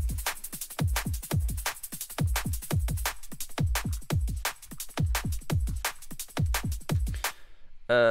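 Layered drum break loops in a liquid drum and bass style play together steadily, with booming kicks and crisp snare hits in a fast, regular groove, loud and dry, without voices.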